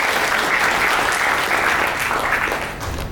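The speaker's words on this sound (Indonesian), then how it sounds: "Kita beri tepuk tangan Saleh Asnawi, Bupati terpilih Tanggamus." Steady, full audience applause fills a hall at a Gerindra party regional coordination meeting in Lampung, greeting the newly elected regent of Tanggamus. It stays loud and dense throughout and fades slightly at the end.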